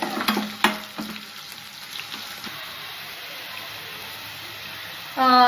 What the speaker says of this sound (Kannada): ಹೆಚ್ಚಿಟ್ಕೊಂಡಿರೋ ಆನಿಯನ್ನ ಹಾಕ್ತಾ ಇದ್ದೀನಿ. ಅದು ಸಹ ಗೋಲ್ಡನ್ ಕಲರ್ ಬ್ರೌನ್ ಬರೋವರೆಗೂ ಸ್ವಲ್ಪ ಬೇಯಬೇಕು ಎಣ್ಣೆಯಲ್ಲಿ